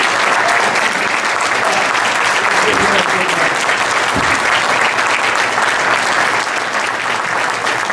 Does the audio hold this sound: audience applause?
yes